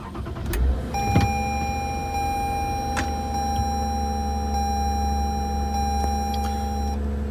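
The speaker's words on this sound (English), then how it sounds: "let's start the car up" A car with an electrical fault cranks and catches, settling into a steady idle hum close by, with a few faint electronic beeps and clicks over the running motor.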